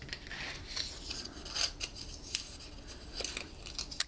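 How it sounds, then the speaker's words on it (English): Scored paper strips being folded by hand along their score lines, a soft close crinkling and creasing with light rubbing and faint crisp snaps, quiet and continuous without speech. "I'm going to fold these along the score lines"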